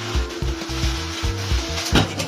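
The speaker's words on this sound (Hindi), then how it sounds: "नाश्ते को हम ऐसे ही भून लेते हैं" Panjiri ingredients being dry-roasted and stirred in a pan, with steady scraping strokes and low thumps repeating in an even rhythm, close and moderately loud, no voices.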